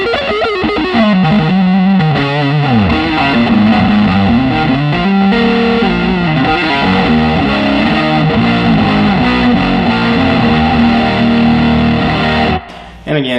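A loud, continuous distorted electric guitar passage on the DiMarzio neck pickup alone, with sustained notes and sliding melodic runs, stopping abruptly just before the clip ends.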